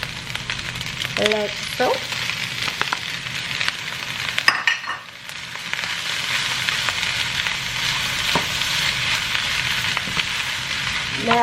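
Shrimp sizzle and fry in a hot pan of St. Louis-style fried rice, a steady crackling hiss throughout with occasional clinks and stirring scrapes, and a brief spoken comment partway through.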